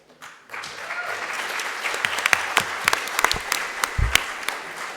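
Audience at a community college board of trustees meeting breaks into applause, starting suddenly and holding steady with sharp individual claps standing out, fairly close and filling the room.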